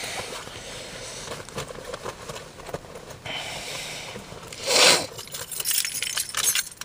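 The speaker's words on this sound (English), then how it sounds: "I gotta get the keys." Keys jangle as they are picked up, a burst of bright metallic clinking standing out near the middle over steady background noise, with lighter rattles before and after; no one speaks.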